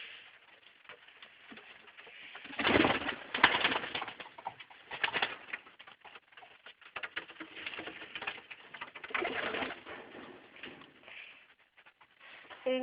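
Pigeons in a loft coo in soft, low, throaty phrases, several birds overlapping at close range, with faint rustling and shuffling between the calls.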